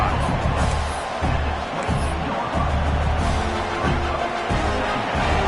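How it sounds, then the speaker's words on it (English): Stadium crowd noise swells steadily through an early drive in the NCAA 26 college football game, UW versus USC, a dense continuous roar with low rumble and faint cheering, under occasional commentary. "Listen to the crowd energy here in the early going"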